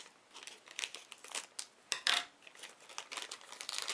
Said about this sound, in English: Next we've got the sound of me cutting open another bag.